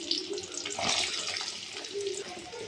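Mustard seeds spluttering in hot oil in a kadai, a faint, hissing sizzle with soft crackles running steadily throughout, close and quiet, with a voice faintly audible underneath.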